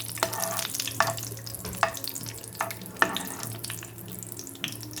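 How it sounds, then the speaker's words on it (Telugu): Cashews fry in heated oil, a continuous bubbling sizzle punctuated by several sharp clinks and scrapes of a spoon against the pan at irregular intervals, with a faint hum underneath and no speech. "ఇప్పుడు అందులో మనం ఫస్ట్ కాజు వేసుకొని ఫ్రై చేసుకుందాం"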